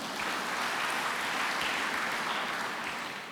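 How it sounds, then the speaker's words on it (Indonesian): A church congregation claps hands steadily through a worship service, dense and continuous applause filling the room without a break, with no voices rising above it. "yang setuju tepuk tangan, yang enggak jangan"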